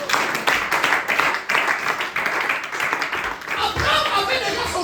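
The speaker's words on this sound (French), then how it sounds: "À l'applaudissement pour la gloire de Dieu" Church congregation clapping together during a sermon, a dense ongoing patter of many hands with rhythmic surges, mixed with voices in the room.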